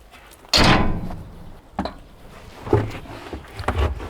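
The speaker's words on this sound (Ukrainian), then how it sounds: "відкриваючись ось таким чином, двері забезпечують захист для бійців, які сідають чи виходять з автомобіля" The heavy rear door of a Varta-2 armored vehicle swings open with a loud sudden metallic thunk, followed by several softer clunks and knocks nearby, with no talk over it.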